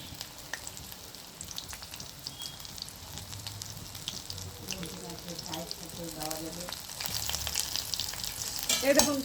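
Spice-coated ivy gourd pieces fry crisp in hot oil, a steady bubbling sizzle that grows louder toward the end, with a voice speaking faintly over part of it.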